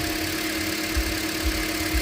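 A 2013 Toyota Corolla engine idling with a misfire, heard up close in the engine bay: a steady low hum with a faint recurring thump or stumble roughly every half second.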